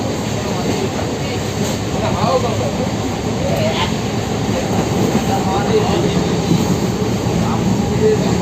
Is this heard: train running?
yes